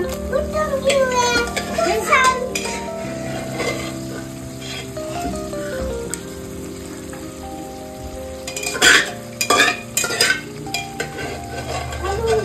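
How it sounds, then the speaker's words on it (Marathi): Mutton sizzles and fries in masala while being stirred in a pan, with scraping utensil strokes and clatter near the end; children and adults talk over the cooking throughout. "आता हे मटण आपण असं काढून मसाल्यात परतून घेऊया."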